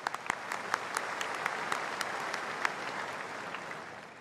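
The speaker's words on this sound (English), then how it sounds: "Another round of applause," Audience applause at a university graduation ceremony, a steady, moderately distant wash of clapping with a few sharper claps standing out.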